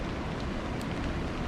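Steady rain falling as a dense, even hiss, continuous and moderately loud with no pauses.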